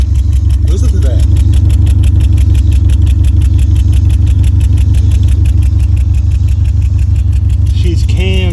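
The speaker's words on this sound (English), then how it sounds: "I think you have a blowed head gasket." Honda Civic engine with a blown head gasket running at idle, loud and close with a steady rhythmic chug and a knocking pulse throughout, while someone talks over it near the start and end.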